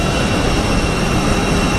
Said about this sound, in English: Yeah, it's an A320. It's EasyJet.